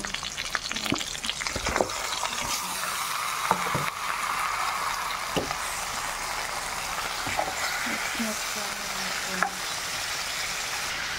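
Pork sautéing with onion and garlic in a pan for humba: a continuous close sizzle runs throughout, broken by scattered clicks and scrapes of a stirring utensil, with no voices.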